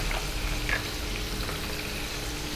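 Onion frying in a pan over a medium flame for fried rice with prawns, giving a steady, dense sizzle that stays close and even, with no voices.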